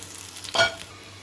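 Hot spiced oil tempering with red chilli poured over beef nehari gives a single brief sizzling hiss, close and moderately loud, rising and fading within a fraction of a second.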